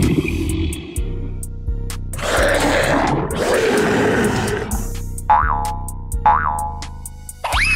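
Cartoon comedy tiger roar effect, a loud roaring burst in the middle of the clip set among springy boing sounds and music-like tones.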